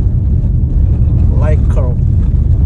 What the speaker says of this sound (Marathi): आता फक्त खड्डे पार करत करत मी रोड पार करत जातो